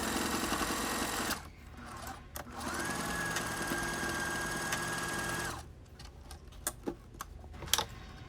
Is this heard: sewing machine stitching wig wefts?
yes